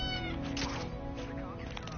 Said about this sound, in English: That's one kitty.